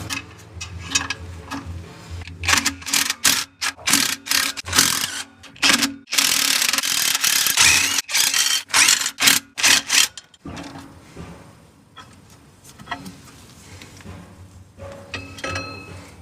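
Clutch parts being removed from a Mk2 Ford Escort in a garage, a series of loud close scraping and rubbing bursts with metallic clinks, followed by quieter handling noises.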